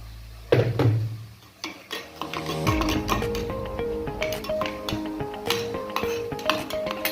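A metal spoon stirs a cooking pot while someone makes meat with khorioh, giving near, irregular scraping clinks and rattles against the pot, with a few louder knocks and no talking.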